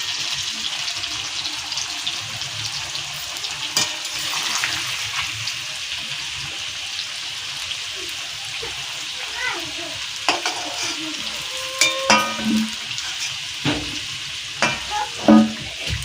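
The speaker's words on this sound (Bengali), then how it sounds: "আলুগুলো সুন্দর ভাজা হয়ে গেছে এবার আমরা তুলে নেবো" Potatoes fry in hot oil with a constant close sizzle, broken by occasional utensil scrapes and clinks that grow more frequent toward the end.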